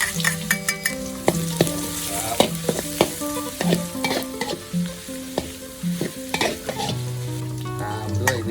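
Chopped garlic sizzles and crackles in a hot pan while a utensil stirs and scrapes, with frequent clinks and taps throughout.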